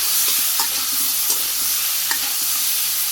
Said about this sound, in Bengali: ফুলকপিগুলো সুন্দর করে ভাজি করে নিচ্ছি